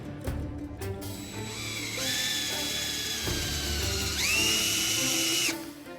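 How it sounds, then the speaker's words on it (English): Power drill driving a wooden dowel into the wooden legs of an 1898 ventriloquist dummy under restoration, heard close as two whining runs with rising motor pitch and a short pause between them. "You can actually drill the dowling in."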